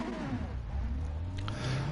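Racing cars in the GT1 sim racing game at Interlagos rev their engines at the race start. The mid-pitched engine drone is steady and continuous, with rising whines layered over a constant low rumble.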